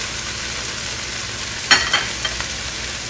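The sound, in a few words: longaniza sausage frying and being stirred in a pan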